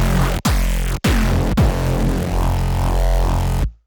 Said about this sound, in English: And now, after the filter unit, we activate the post distortion.